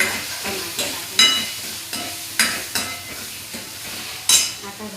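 Tomatoes sizzle and fry in a pan while a utensil stirs them, scraping in about a dozen sharp irregular strokes over a soft background hiss.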